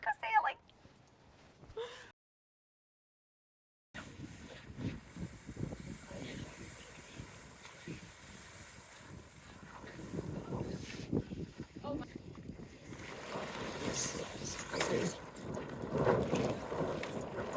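A sailboat underway with its screecher sail hoisted, heard as wind buffeting the microphone and water rushing along the hull, with a brief dropout early on and the noise building louder toward the end.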